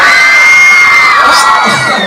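A crowd of young fans at a film mall tour in Los Angeles screams and cheers, a loud, continuous, high-pitched roar sustained throughout with no clear speech.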